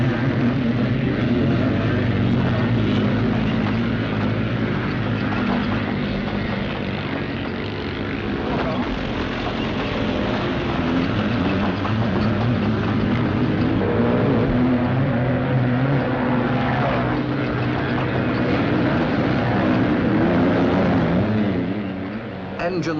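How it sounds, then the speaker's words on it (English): Scrambling motorcycles racing over a rough British cross-country course, engines roaring continuously as bikes climb banks, loud and sustained with overlapping revs throughout. "Engines scream as they roar up the banks."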